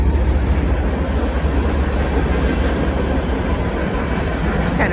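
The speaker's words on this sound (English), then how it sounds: "Yep, there's that train." A train passes near the Meramec River with a steady, loud, continuous rumble and rolling noise that stays even from start to finish and is heard with no talk.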